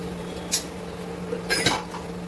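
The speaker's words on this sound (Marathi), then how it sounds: "आता वेळ आहे जेवणाची जी भांडी पडलेली आहेत ती क्लीन करण्याची" Used dinner dishes being washed at home, with a few sharp clinks and clatters of utensils and pots against each other at a steady low room hum, no talking.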